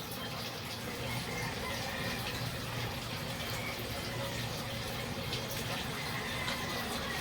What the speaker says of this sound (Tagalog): Washing gumagana.